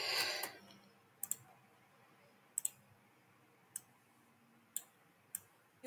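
Quiet, isolated computer mouse clicks, about five sharp ticks spaced roughly a second apart, follow a brief burst of noise at the start against near silence.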